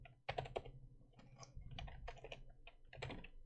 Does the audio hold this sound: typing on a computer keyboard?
yes